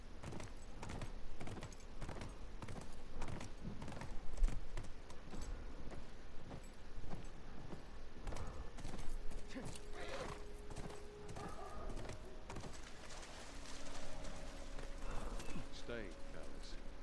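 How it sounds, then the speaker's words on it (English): Horse hooves clip-clop in a steady rhythm during riding in the video game The Last of Us Remastered. Occasional whinnies and faint mechanical jingles play over a continuous game ambience. "Riding a horse is fun in this game."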